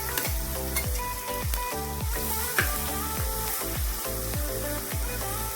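Crushed garlic fries in oil as fish curry gets underway, giving a steady close sizzle with a run of regular metallic clinks, like a spoon stirring against the pan, throughout.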